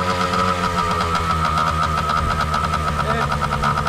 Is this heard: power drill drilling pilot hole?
no